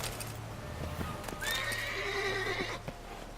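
Roach, the horse in The Witcher 3, lets out a clear, rising whinny that carries for about a second, with hoof clops and light shuffling before and after.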